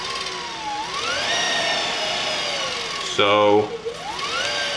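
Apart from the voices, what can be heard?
electric go-kart motor spinning with throttle, high pitched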